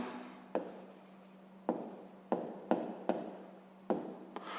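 Pen strokes on paper while a math exercise is written out, a series of short scratchy marks in irregular rhythm with sharp starts and fading tails, close and quiet, with no talking.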